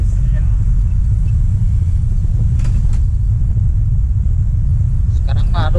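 An angkot minibus engine drones loud and constant during a ride to a market in Bantar Gebang, deep rumble filling the cabin with faint voices underneath.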